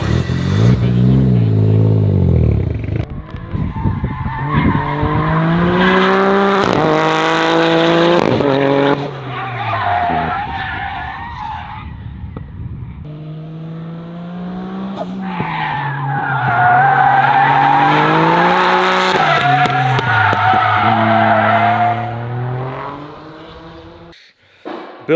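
A 500-horsepower Toyota GR Corolla accelerates hard, its engine note climbing loud and close in repeated rising sweeps as it runs through first and second gear, with tire noise and a brief break-up in the pull.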